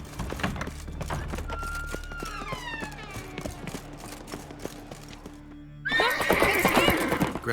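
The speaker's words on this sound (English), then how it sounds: "Grab a horse, we'll chase him down." Horses whinnying in the game The Witcher 3, a long descending neigh over clip-clopping hooves, then a second, louder whinny near the end.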